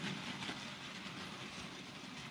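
A steady, broadband mechanical rumble with a faint rolling hiss as an OO gauge model train locomotive runs continuously on track, fairly quiet and unbroken, with no voices.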